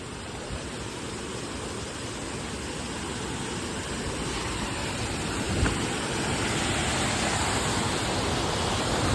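Monsoon waterfall at Malshej Ghat, a steady broadband roar of falling water with rain that stays loud and unbroken throughout, swelling slightly toward the end with one brief sharp knock midway.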